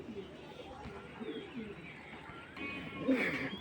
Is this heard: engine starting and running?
no